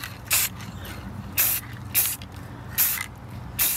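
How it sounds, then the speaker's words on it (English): An aerosol spray paint can hisses in five short, light bursts aimed at the edges of a wooden lazy susan. The sprays are close and sharp, separated by brief quiet gaps, with no talking. "So let's hit this with some spray paint."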